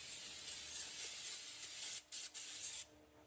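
A steady aerosol hiss sprays a coat onto brake caliper parts from a 2007-2013 Chevy Silverado or GMC Sierra, with two brief breaks near the end before the spray stops.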